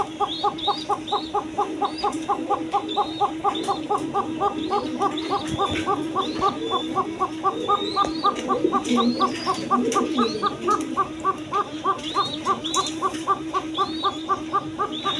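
A female pigeon coos in a steady, repeating rhythm of short calls, close by, with other soft bird sounds scattered through the background.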